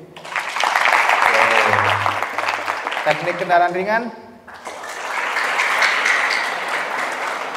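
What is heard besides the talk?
students applauding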